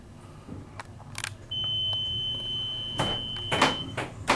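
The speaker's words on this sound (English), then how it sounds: "Man, that's a long beep." A long, steady elevator beep holds one high tone for about two and a half seconds, framed by soft clicks and a mechanical rumble, in the Radisson Hotel Star Plaza, Merrillville, Indiana.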